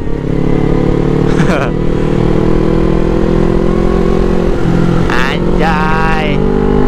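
Motorcycles speeding along on a Sunday morning group ride in BSD, a steady loud engine and wind roar close by, with brief horn-like tones and faint voices over the drone.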